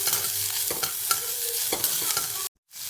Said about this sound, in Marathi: आधी कांदा चांगला जरा परतून घ्यायचा